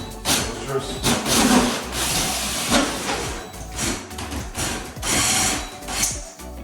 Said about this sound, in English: I can drill through my top plate to get my wire in the ceiling.